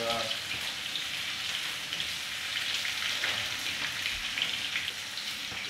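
Escovitch fish pieces frying in a hot pan give a dense, loud, continuous crackling sizzle, close and steady throughout with no voices.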